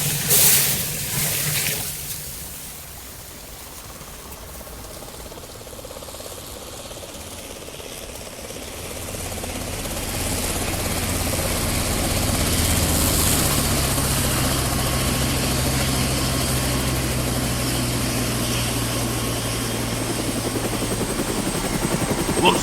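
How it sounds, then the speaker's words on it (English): A Chinook helicopter arrives in the video game Three D Velocity, its rotor and engine drone swelling from a quieter start into a steady, loud, continuous thrum that holds to the end. "Tell them we need a Chinook helicopter here right away."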